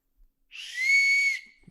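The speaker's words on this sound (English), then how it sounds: "Yes, it is a whistle." One blast on a small handheld whistle gives a single clear, shrill tone lasting about a second, alone in an otherwise quiet room.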